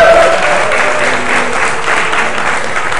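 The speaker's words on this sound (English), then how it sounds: "Give a cheer for him." A crowd at a StarCraft II esports match on the Metalopolis map cheers and applauds, a loud dense roar of clapping with scattered whoops that holds steady for three seconds.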